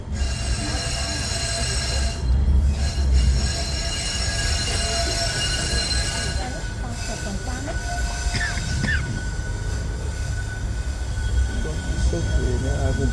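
Tourist train on the rail line to Morretes, Paraná, rumbling steadily with high metallic wheel squeal on the rails, close and loud throughout, with voices faintly underneath.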